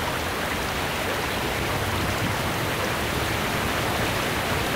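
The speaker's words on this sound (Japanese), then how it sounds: "雨が止むのを待ってみる。" Steady, even rain falls as a continuous hiss in the video game Muv-Luv Unlimited, with no other sounds.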